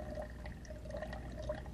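Water being poured into a hydrometer cylinder in a soil testing setup, a soft, steady trickle close by with faint splashes, no voices.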